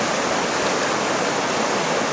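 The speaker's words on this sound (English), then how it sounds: "This is the Salduck River here." The Salduck River flows where it meets the Bogachiel on the Olympic Coast, making a constant, close, full rushing roar of water with no voices.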